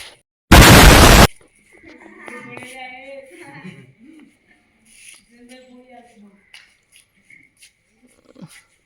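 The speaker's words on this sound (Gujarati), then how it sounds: "બોમ્બ ફોડ્યો" A single loud firecracker blast goes off, sharp and close, followed by people chattering and calling out in the background.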